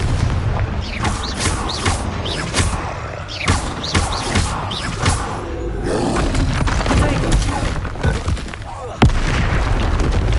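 Spell blasts from the Hogwarts Legacy video game go off in rapid succession, a run of loud booming explosions and crashes repeating every second or so, layered over battle noise with a sharp hit near the end.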